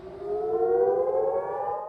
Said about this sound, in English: an air raid siren sounded in Israel